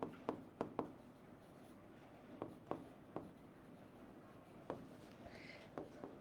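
A pen writes short phrases into boxes on paper, making faint, close scratchy strokes and taps in small irregular bursts with quiet pauses between them.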